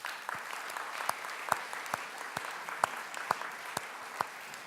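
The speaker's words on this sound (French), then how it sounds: "Je crois qu'on peut d'ailleurs vous applaudir" A few scattered hand claps at a steady, sparse rhythm greet a guest speaker, Bernard Olivier, at a conference at Espace Franquin in Angoulême, over a faint room hiss.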